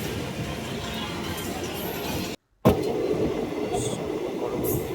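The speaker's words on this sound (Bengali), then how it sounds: "এখন আমাদের ট্রেন বর্তমানে প্রান্তিক স্টেশনের দিকে এগিয়ে যাচ্ছে" A passenger train runs toward Prantik station in West Bengal, heard from inside as a loud, steady rumble and rattle of wheels with a brief dropout midway, then the same continuous roar, no talking.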